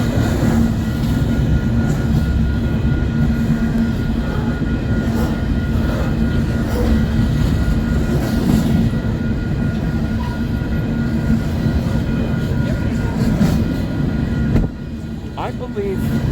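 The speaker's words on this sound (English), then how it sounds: "Westbound empty coal drag" A westbound empty coal train of COLX and EDGX hoppers rolls past in Fremont, Nebraska, a loud, steady rumble of wheels and cars holding for the whole stretch, with a low hum throughout and a slight drop near the end.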